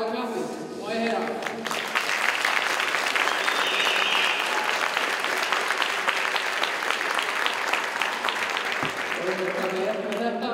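Sustained audience applause at an Icelandic horse show, a dense wall of clapping lasting nearly the whole stretch, loud and steady, with a voice over a PA briefly heard at the start and end.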